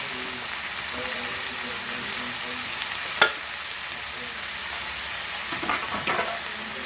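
Chopped banana flower frying and being stirred in a pan for a Goan vegetable dish, a constant close sizzle with occasional louder scrapes of the spoon, and a voice talking briefly over it.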